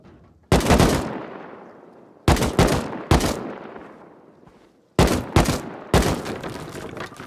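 Short bursts from an HLMG machine gun in the survival video game Rust, five loud separate volleys of a few rounds each with echoing tails fading between them.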